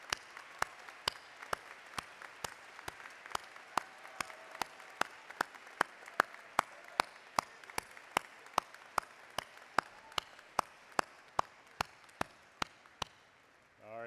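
A commencement audience at a fall graduation ceremony applauds for the graduates' families and supporters, a steady mid-level wash of clapping punctuated by evenly spaced sharp claps that ends abruptly.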